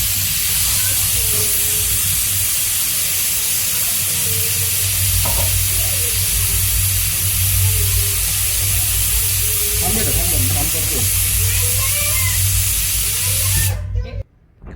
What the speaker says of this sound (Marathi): कुकरच्या शिट्टीने देखील आपल्याला छान असा व्हॉइस ओव्हर्स दिलेला आहे